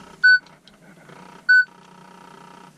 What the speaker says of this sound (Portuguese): O bip dele é monstruoso